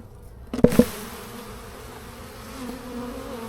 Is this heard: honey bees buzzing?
yes